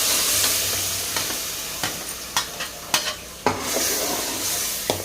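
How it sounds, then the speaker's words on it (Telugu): Masala spices fry in oil in a pot while being cooked for a black-eyed pea stew, with a continuous close sizzle and a series of sharp spoon taps and scrapes against the pan. "ఆయిల్ వేయించుకుందాం మసాలాని."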